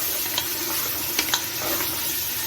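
Chicken with tomato paste frying and being stirred in a pan, a soft steady sizzle with a few brief scraping clicks of the spoon, close and fairly quiet.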